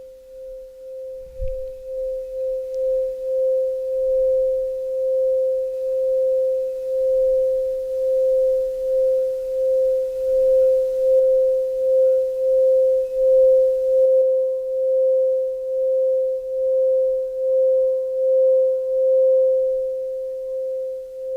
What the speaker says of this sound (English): So, we're going to do the singing bowl.